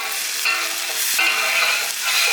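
Garlic frying in hot oil for Andhra chilli prawns, a steady loud bright sizzle that holds close and continuous throughout, with faint stirring bumps underneath.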